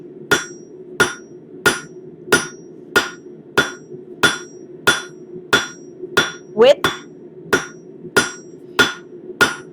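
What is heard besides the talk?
cross peen hammer striking metal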